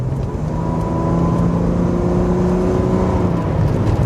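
A Volvo 960 rear-wheel-drive car accelerating, heard from inside as a steady engine drone with a slowly rising tone and road rumble, continuous throughout.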